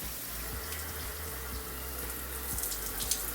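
Shower running cold after a cartridge repair on a pressure-balancing valve, a steady close hiss of water spraying and splashing with a low continuous rumble throughout, no talking.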